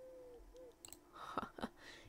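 An owl in a video game gives two soft, short hoots near a sacred tree, followed by a few faint rustling and clicking game sounds, all quiet with no talking.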